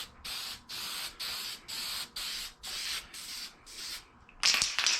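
Short hissing bursts from a spray paint can running out repeat in a steady rhythm, each puff sounding thin and sputtery, ending with a harsher rattling spit.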